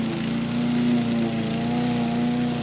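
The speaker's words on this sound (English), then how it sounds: "lawnmower, it's not easy to do." A small lawn mower running at a steady, loud engine drone with a constant pitch, close by and continuous throughout, no talk.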